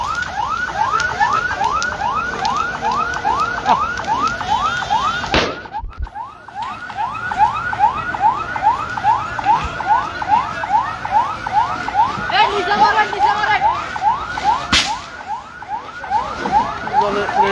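A fire engine siren wails in a steady repeating up-and-down cycle, loud and close, as fire service crews arrive at a wedding party car blazing after a cylinder explosion at Kashipur market in Barishal; no talk is heard.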